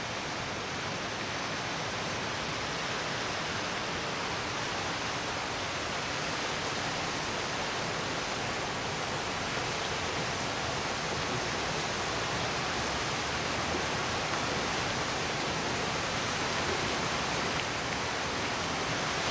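The swollen, flooding Meža river at Ravne na Koroškem rushes past in a steady, unbroken broadband roar of moving water, heard from a moderate distance with no voices.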